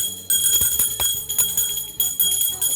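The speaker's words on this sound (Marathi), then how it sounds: "घंटी वाजव" Bell rung during Nag Panchami snake worship in a Konkan village, its bright metallic strikes repeating steadily and ringing on with sustained overtones, loud and close throughout.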